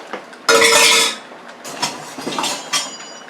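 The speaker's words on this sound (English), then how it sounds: "I boiled 3 large white potatoes, and now we're going to incorporate that." Boiled white potatoes are stirred into fish chowder in a pot, with a loud burst of clattering and scraping followed by lighter knocks and thumps of the utensil against the pot.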